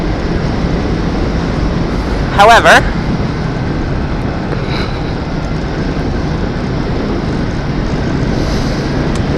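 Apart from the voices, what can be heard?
vehicle engine noise while riding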